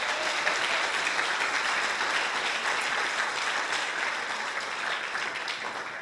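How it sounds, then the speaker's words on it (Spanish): A church congregation in Santa Ana, El Salvador claps together in a steady, dense wash of applause, moderately loud and sustained without pause, no voices standing out. "¿Por qué no le damos un aplauso al Señor?"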